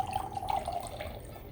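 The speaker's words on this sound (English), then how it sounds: "Put that mesh right on top of your container and we're going to strain out these kelp beads." Calcium-rich water with kelp beads is strained through mesh into a container, giving a close, steady trickling and dripping of liquid without pause.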